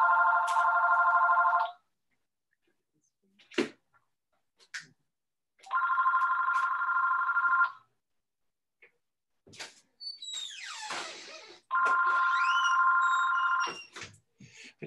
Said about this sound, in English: I've got a phone ringing